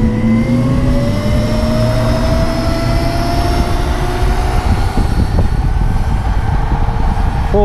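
An Uberscoot 1000 W electric scooter ridden at full power gives a loud, steady motor whine that slowly climbs in pitch, over continuous wind and road rumble, with no talking.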